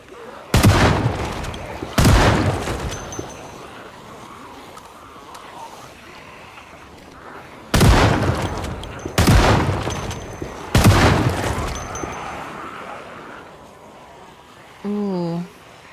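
Five heavy shotgun blasts in a video game, loud and close, spread unevenly over several seconds with short reverberant tails and quiet gaps between, ending with a short wavering electronic tone.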